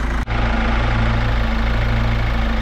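A Kia Sorento engine idling, loud and close, with a steady low rumble and even pulsing after a brief dropout at the start, running alone without voices.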